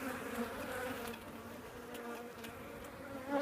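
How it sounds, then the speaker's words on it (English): Steady, close buzzing of many honeybees being installed into a hive, a continuous droning hum with no voices. "we'll release all the bees into the hive"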